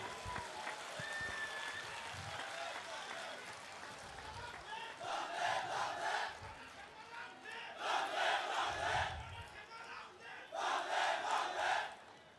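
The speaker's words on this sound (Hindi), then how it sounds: "हमारे सीएम साहब के स्वागत में तालियों की गड़गड़ाहट होनी चाहिए।" Faint, distant crowd noise at a large outdoor political rally swells in three bursts of clapping and cheering, separated by quieter lulls.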